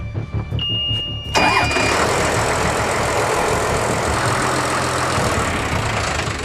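A boat engine on a tuna fishing boat cranks and catches after a coolant leak, then settles into a loud, steady, rumbling idle that runs on alone to the end.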